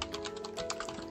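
Close, rapid clicking of keys on a computer keyboard as text is entered, steady tapping at a quick, slightly uneven pace, with no talking.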